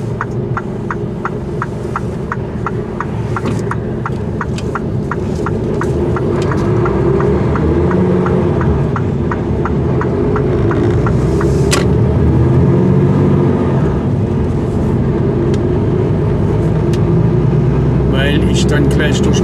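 A car drives along a road with a steady throbbing engine hum and road rumble, while someone talks over it throughout, heading down a side road rather than the highway.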